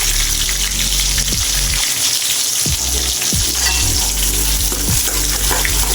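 Eggplant sautés in hot oil with popped mustard seeds and a little salt, a loud, dense, continuous sizzle with occasional low knocks of a spoon or pan.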